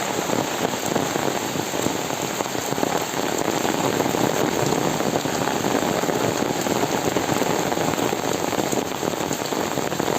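Steady village rain falls on a white dirt road, a dense, even hiss of drops on the ground and surfaces that holds constant throughout with no voices.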